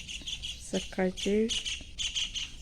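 Birds calling on a morning after evening rain, short chirps and a couple of squawky calls near and fairly faint, partly under a person talking.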